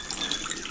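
Cocktail poured from a shaker in a reverse grip during flair bartending, a brief steady splashing stream of liquid, close and fairly loud, alone for under a second.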